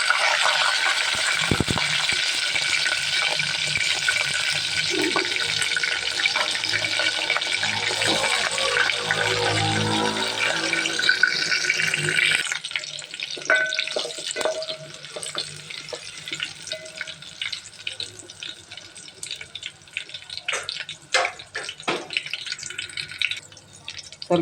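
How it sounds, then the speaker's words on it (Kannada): Curry leaves and green chillies frying in oil, a dense crackling sizzle for the first half that drops to scattered pops and spits, fairly close with no talk. "ಇವೆಲ್ಲ ಎಣ್ಣೆಯಾಗ ಫ್ರೈ ಮಾಡಬೇಕು"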